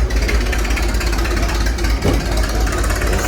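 A 3.5 hp vertical hit-and-miss engine from Buffalo, New York, with hot tube ignition and dating from about 1900, runs nearby at an outdoor yard show, a loud, steady chugging with a rapid, even beat throughout.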